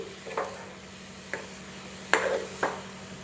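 A spoon stirs carrot halwa in a pan, giving a few soft scraping clinks spaced irregularly over a faint, steady cooking hiss.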